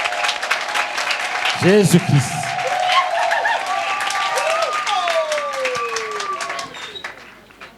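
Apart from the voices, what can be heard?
crowd applauding at a religious convention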